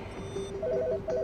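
A telephone ringtone chirps in short repeated electronic bursts, steady and fairly close, with no one talking.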